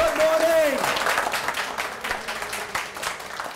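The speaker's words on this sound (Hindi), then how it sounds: "तालियां तालियां तालियां" Studio audience applause on a Pakistani morning TV show, a broad wash of clapping that fills the clip and slowly thins toward the end, with a voice briefly audible near the start.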